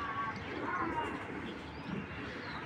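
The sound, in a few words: racing pigeons cooing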